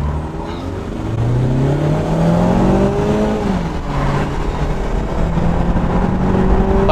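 A Toyota Camry and a Mazda 6 accelerate hard side by side in a drag race, heard from inside one car as a loud, rising engine drone that climbs through gear changes.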